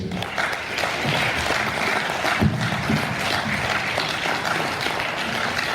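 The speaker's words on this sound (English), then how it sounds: "Round of applause to all of you guys for putting this on." An audience applauds after the 2018 Maine independent gubernatorial candidates debate, giving a steady, dense round of clapping that holds at an even level throughout.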